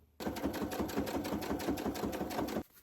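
A sewing machine top stitching a fabric coffee cup cozy, giving one short, steady burst of rapid mechanical chattering that starts and stops abruptly, near and fairly loud, without talk.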